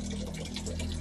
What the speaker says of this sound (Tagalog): Pagpundo dai kog tubig sa CR